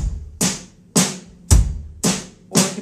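Drum kit in 3/4 time with the snare falling on beat three: five evenly spaced hits, each with a low thump and a bright crisp crack, steady and close with no voices.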